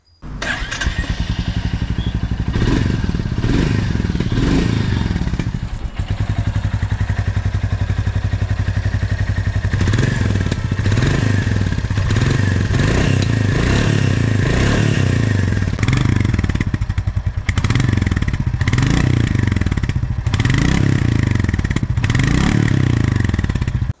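A 2025 Royal Enfield Goan Classic 350 motorcycle engine thumps with a deep, steady exhaust beat, rising in repeated revs and settling back to a loping idle, close and loud.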